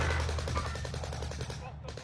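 Video game gunfire, a rapid steady stream of automatic shots rattling in even pulses for about two seconds, with a voice talking underneath.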